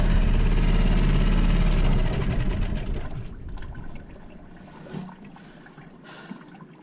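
A loud boat engine on a sailboat rumbles for a couple of seconds, then fades away into quieter watery sloshing and faint clatter.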